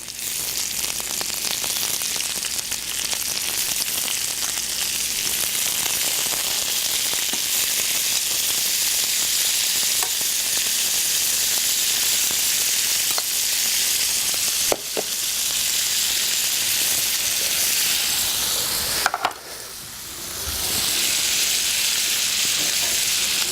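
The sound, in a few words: shrimp sizzling in pan with garlic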